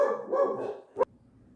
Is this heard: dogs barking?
yes